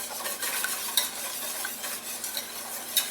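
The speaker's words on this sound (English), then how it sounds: "once I get this stirred well, I'm going to switch to a spoon" Blackberry jelly being stirred in a cooking pot, with a continuous scraping swish and occasional light clinks of the utensil against the pot, close and steady.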